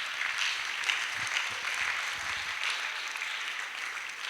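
A church congregation applauds loudly and steadily, a dense wash of many hands clapping close by for several seconds without pause.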